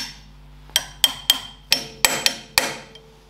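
A hammer strikes a small chisel to bend over a lock tab on the main pulley nut of a Ferguson TED20 tractor's front axle, giving seven sharp metallic taps at uneven intervals, close and clear.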